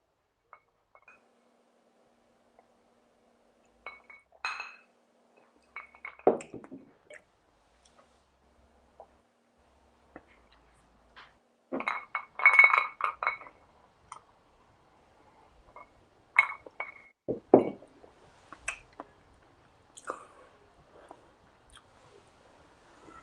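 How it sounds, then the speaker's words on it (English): Whiskey glasses clink together in a toast before a sip of Old Grand-Dad 114, a few short, faint glassy ticks and taps scattered among quiet handling sounds, with no talk. "let's clink them and drink them"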